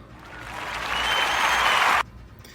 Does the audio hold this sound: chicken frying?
no